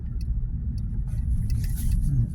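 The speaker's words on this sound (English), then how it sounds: "There's another security car." A security car drives past on a city street in Trenton in December, its engine and tire rumble low and steady for a couple of seconds at moderate distance, with faint background activity.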